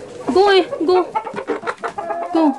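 A farmyard hen gives a run of repeated clucks and drawn-out calls, close and fairly loud, in uneven bursts.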